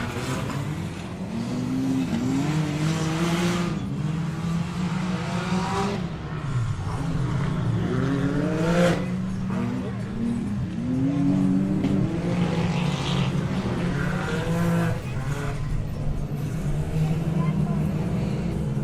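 Race cars running laps at a live track event, engines revving and shifting in repeated rising tonal sweeps, passing near and far under continuous commentary from an announcer.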